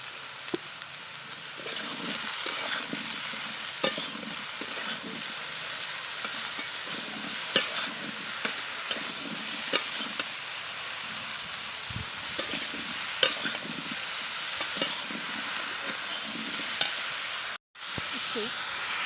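Tilapia and eggplant curry stir-frying in a pan, a steady sizzling hiss with repeated scraping stirs of the spoon throughout, close and fairly loud, broken by one brief dropout near the end.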